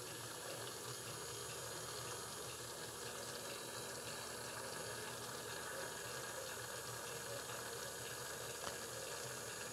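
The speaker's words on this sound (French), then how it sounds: "Je prends une petite pompe là pour enlever tout l'excès d'eau." A small pump draws excess water off recycled clay slip, giving a continuous, even whirring and watery hiss that holds steady throughout at close range.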